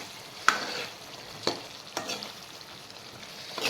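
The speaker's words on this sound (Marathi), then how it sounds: "अजून 2 मिनिटं आपण याला थोडंसं परतून घेऊ" Drumstick pods sauté in oil in a pan, a steady hiss of frying broken by a few distinct scrapes and knocks as a spoon stirs the vegetables, close and fairly loud.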